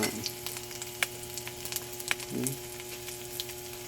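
Oil sizzles and crackles steadily as tabagak fish fries in a pan, with occasional sharper pops and a short stirring scrape partway through.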